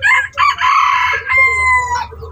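A rooster crows nearby, one loud, ringing cock-a-doodle-doo with a drawn-out final note, over a faint low background rumble.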